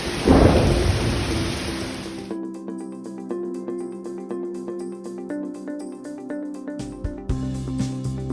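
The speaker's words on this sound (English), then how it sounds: "let's have a little look at the storm on Wednesday" A thunderstorm opens with a loud, close rumble of thunder and heavy rain hiss, which cuts off abruptly to a steady musical tone bed while faint rain-like patter continues.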